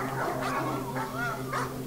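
A dog in a video game barks and yips in a few short, close bursts over a steady tonal background.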